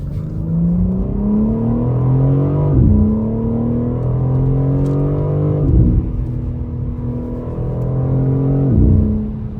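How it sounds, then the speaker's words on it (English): A modified BMW M4 accelerating hard to overtake another car, its engine note climbing loud and close through three gears, with brief dips at each upshift before the revs rise again. "I had to pass a car, my bad, y'all. Wow, this car fucking moves."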